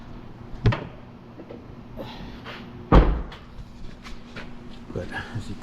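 A GM truck door is shut during rocker panel replacement, two solid thuds heard close by, one early and a heavier slam a couple of seconds later, with light handling noises between.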